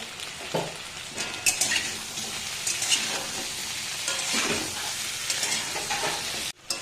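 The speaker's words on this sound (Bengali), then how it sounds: "এই কুচো চিংড়ি অল্প পরিমাণে দিয়ে দিচ্ছি, একসঙ্গে ভেজে নেব" Potatoes and small winter shrimp fry together in a pan, a steady broadband sizzle with a few clinks and stirring scrapes, close and continuous with no voices.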